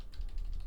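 Computer keyboard keys pressed in a quick burst of soft clicks while navigating an x86 assembly debugger, close and moderately quiet with no talking.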